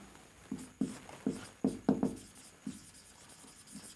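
Marker or chalk writing on a board, a series of short scratchy strokes in an uneven rhythm, close and fairly loud, then trailing off, with no speech.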